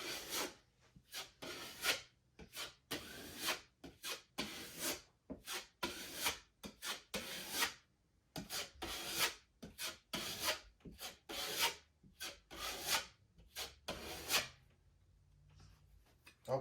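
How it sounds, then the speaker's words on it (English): A drywall knife scrapes excess joint compound off a wall around a patched hole, producing repeated rough rasping strokes in irregular bursts with short pauses between them, close and moderately loud. "you're wiping that clean off so there's no excess mud around your patch."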